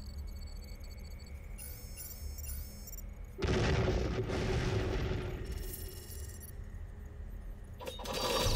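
A space bombing attack in the strategy game Endless Space 2: a dense burst of rumbling blasts and crackling impacts swells in for several seconds, then eases off and flares up again near the end, over a steady ambient music bed.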